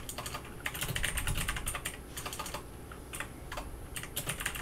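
Fingers type text on a computer keyboard, with rapid, uneven bursts of key clicks heard up close and no voices.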